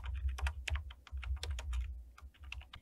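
Typing on a computer keyboard in an Excel session: quick, uneven bursts of close, crisp key clicks with short pauses, quiet and without speech.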